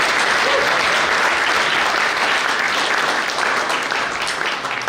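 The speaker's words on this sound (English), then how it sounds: "Round of applause for Amir Khan for being here." Indoor studio audience clapping steadily for a guest, a dense, even wash of applause lasting several seconds without talk.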